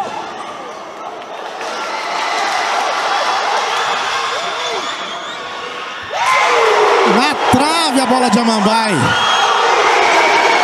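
Spectators in the stands at a regional futsal cup match cheer and roar, building into a loud surge with whistling and shouts, under excited live commentary.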